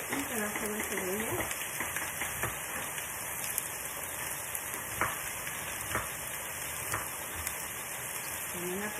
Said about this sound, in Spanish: Dejamos que se guisen bien mientras tienen que estar los jitomates y las chuletas